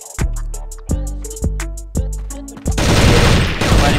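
Gunfire in a shooter video game, loud close shots in a spaced rhythm of about five single blasts, then a dense rapid burst of automatic fire at the end, with no talking.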